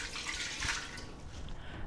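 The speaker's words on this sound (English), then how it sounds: "Cup and a half of water here." Water pours steadily into an Instant Pot pressure cooker holding baby back ribs, a continuous close splashing stream for about two seconds.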